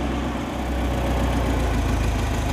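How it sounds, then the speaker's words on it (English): A 1933 Indian motorcycle engine idles steadily on its stand, its exhaust note a smooth, even low rumble held close and unbroken for the whole stretch, with no talking over it. "And that great exhaust note."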